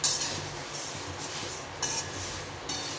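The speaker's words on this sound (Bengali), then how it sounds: "একটু নেড়ে চেড়ে ভেজে নিতে হবে।" Puffed rice (muri) stirred and dry-fried in a pan, a steady grainy rustle and light scraping running throughout with a few brief louder clinks, moderately close and without talk.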